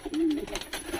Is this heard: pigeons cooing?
yes